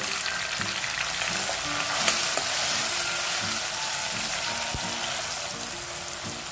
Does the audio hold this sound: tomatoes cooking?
yes